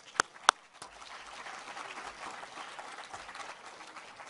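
A short burst of applause: two sharp claps up front, then a steady patter of many hands clapping at moderate volume, with no voices.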